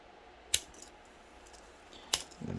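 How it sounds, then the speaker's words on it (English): Cutters snip a plastic model part off the sprue, giving two sharp, close clicks about a second and a half apart in a quiet room, followed by faint handling noise. "Let me just snip that off of the sprue."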